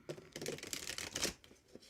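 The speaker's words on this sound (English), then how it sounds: "Doing a little bit more shuffling." Tarot cards being shuffled indoors, a run of quick papery riffling bursts and soft flicks, close and moderately quiet with no talking.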